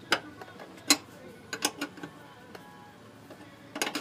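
A blind bolt is tightened with locking pliers, giving sparse, faint metallic clicks and ratcheting ticks at irregular intervals against a quiet room, with no talk.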